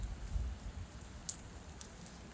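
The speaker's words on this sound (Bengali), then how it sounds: "বৃষ্টি হইতেছে" Rain on a rooftop garden, a soft, faint patter with a few sharper drips, no one speaking.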